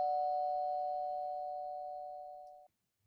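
A single electronic doorbell tone rings out loud and steady indoors, holding for over two seconds before cutting off abruptly, with no voices over it.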